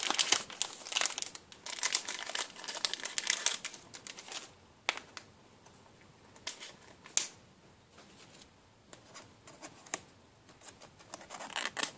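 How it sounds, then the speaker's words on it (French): A Pokémon card slides into a thin plastic sleeve with soft crinkling and scratchy rustles in irregular bursts, close and fairly quiet, broken by brief pauses and a few sharper crackles. "Je vais tout de suite la mettre sous pochette."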